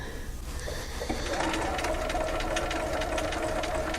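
A sewing machine stitches fabric in a kids' slit-and-sew project. It starts up after a second of faint background and then runs in a steady, fast mechanical chatter, close and even, with no one speaking.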